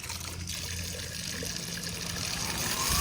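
Water runs steadily into a bucket of citrus-scented car wash soap for detailing a Shelby GT350's wheels, a close rushing, trickling fill that grows slightly louder as it goes.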